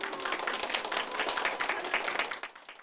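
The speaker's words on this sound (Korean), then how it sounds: "이곳저곳에서 박수가 쏟아집니다" Applause bursts out around a hospital party decorated with balloons and cake, as a young girl in traditional Guatemalan dress appears; many hands clap steadily and closely before tapering off.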